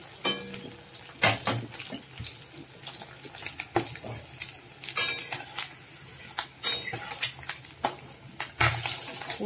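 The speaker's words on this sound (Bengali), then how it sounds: "ভাজা হয়ে গেছে, হালকা লাল করে ভেজে নিয়েছি, তুলে নিচ্ছি।" Cornflour-battered eggs frying in a pan, with irregular metal clatter of utensils against the pan over a light sizzle, close by and uneven in loudness.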